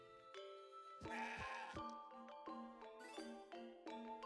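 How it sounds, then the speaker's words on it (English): A goat bleats in the video game CrossCode, a short series of high, nasal, wavering calls with a chime-like game tone, heard plainly and fairly loud. "there is a goat in your house"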